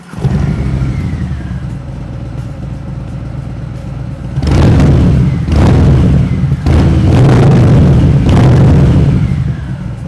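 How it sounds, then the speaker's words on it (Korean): A 2020 Harley-Davidson Fat Bob 114 with its 1868cc engine and Vance muffler idles with a deep loud rumble, then gets revved hard several times in strong bursts, close and alone without talking. "이제 반스 머플러 소리 한번 들어보겠습니다."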